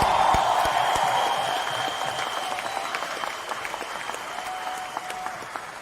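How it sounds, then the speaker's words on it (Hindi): Applause from an audience at a company leadership training event, fairly distant and fading gradually, with a faint tonal hum beneath and no talking. "तो आप सबके लिए जोरदार तालियां।"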